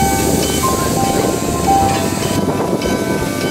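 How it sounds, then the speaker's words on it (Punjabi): Vintage steam locomotive train at a heritage park, a loud continuous rumble and hiss with steady rolling noise and brief whistle-like tones, no talk over it. "ਇਸ ਓਲਡ ਫੈਸ਼ਨ ਸਟੀਮ ਇੰਜਨ ਦੁਆਰਾ ਚੱਲਣ ਵਾਲੀ ਟ੍ਰੇਨ"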